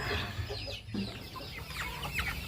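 Three-month-old Rhode Island and Black Astrologer chickens in a new coop, a busy chorus of clucks and chirps close by over a constant hum.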